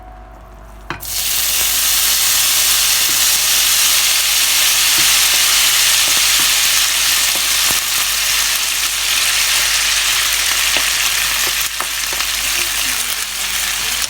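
Crumbled tofu hits a hot non-stick pan and a loud, continuous frying sizzle begins at once, holding a dense steady hiss close up with occasional spatters and crackles throughout.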